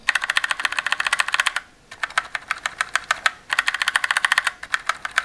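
Razer Stormtrooper Edition keyboard keys are pressed in fast bursts of crisp clicks, some keys fitted with rubber O-rings and some without, with a short pause between runs. The clicking is close and clear, and no one speaks.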